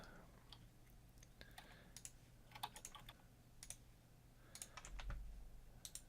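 Rapid computer keyboard typing and key clicks come in irregular bursts during a modded Minecraft session, close and crisp over a low background hum.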